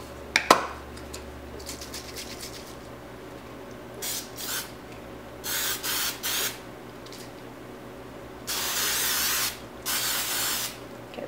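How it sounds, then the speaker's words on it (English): Several short bursts from a trigger spray bottle misting a wreath, each a quick hissing spritz, with a couple of longer sprays near the end and quiet between them. "Spray my wreath just where I'm working on it a little bit"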